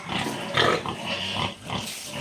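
A fattening pig close by gives low, rough grunts and snorts in a few bursts with short pauses between them.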